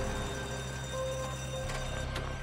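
An alarm bell rings steadily through a robbery scene, a continuous electric ringing tone that stays loud and unbroken, with faint clatter underneath and no talking.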